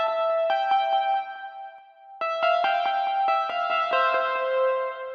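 A synth piano track with sidechain compression plays chiming, echoing notes that repeat in a pulsing rhythm. A brief gap breaks the line midway before a fuller phrase returns, and no voices are heard.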